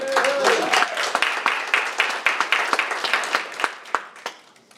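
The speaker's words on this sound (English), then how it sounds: "How about a round of applause for my buddy?" Audience at a business alliance meeting breaking into applause, a moderate room of claps that starts full and thins into scattered individual claps, with a voice speaking briefly at the start.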